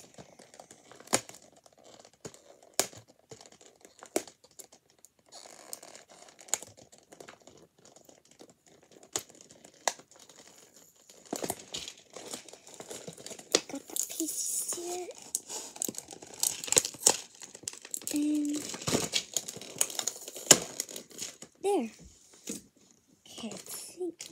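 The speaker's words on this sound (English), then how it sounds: "Okay, so I got that tape off. Now another tape." Packing tape is peeled and crinkled off a package in a quiet room, with sparse faint crackles that grow into a busier run of ripping and rustling, and a person speaking softly at times.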